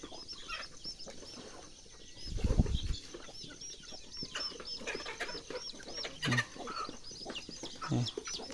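Chickens coming down from their roost in the early morning cluck and chirp continuously nearby, with a brief low thump or flutter, all fairly quiet and without talking.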